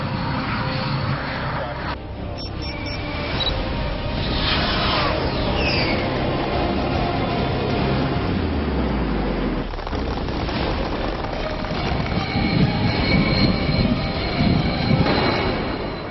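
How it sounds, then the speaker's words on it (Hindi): Fighter jets roar in the sky over a British air base during the multinational Cobra Warrior exercise, a loud, continuous, broad rushing drone with a lower tone sweeping downward midway and a rise in intensity near the end. "ब्रिटेन के आसमान में लड़ाकू विमानों की गर्जना हो रही है।"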